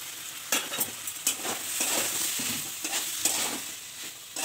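Ginger paste is stirred into fish curry frying in a pan, a steady sizzle broken by repeated scraping strokes of the spoon against the pan.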